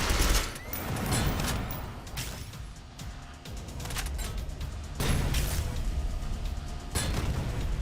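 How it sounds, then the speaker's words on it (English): Explosions go off in the video game Synthetik: Legion Rising as loud, broad booming bursts with brief quieter gaps between them, over a continuous rumbling game soundscape. "Wish I could avoid those explosions."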